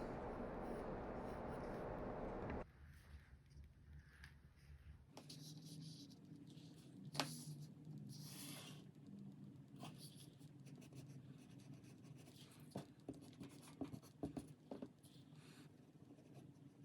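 A pencil scratches across paper while a mouth and teeth are being sketched, soft intermittent strokes and light taps that come close and quiet after a brief louder start.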